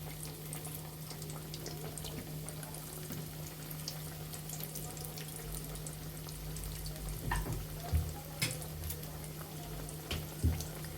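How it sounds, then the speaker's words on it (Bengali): Chicken patties frying in hot oil in a wok on a gas stove, a low continuous sizzle with a steady hum, and a few sharper spatters and clinks near the end. "কড়াইতে তেল দিয়ে দিয়েছি এখন আমরা একটা একটা করে এখানে প্যাটিসটা দিয়ে দিব"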